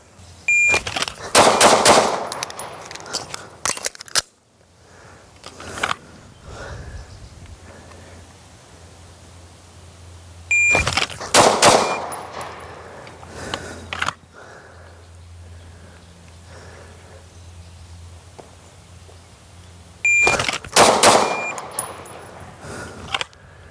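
Handgun shots crack on a shooting range during a RangeTech shot timer review: three bursts of quick, loud reports come about ten seconds apart, each set off by a short, high timer beep, with quiet range noise between them.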